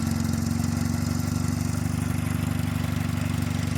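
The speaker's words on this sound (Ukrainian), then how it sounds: "Ось, будь ласка, трактор може їхати дуже медленно" A mini tractor's engine runs steadily while the machine drives very slowly, a constant close, rough mid-low drone with a fast pulsing rhythm and no speech.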